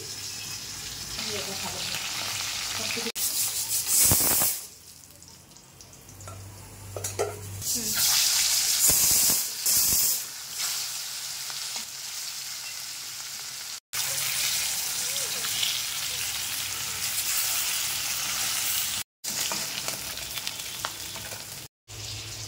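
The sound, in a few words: fish head frying in oil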